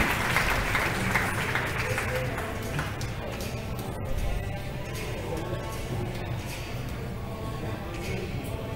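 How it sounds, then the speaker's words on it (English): Sustained applause from an audience at a high school athletic letter-of-intent signing, a steady dense wash of clapping that holds at an even level throughout. "How about one more round of applause for BB Gist?"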